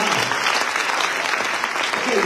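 A church congregation claps steadily and densely throughout a short burst of applause, with voices audible beneath the clapping.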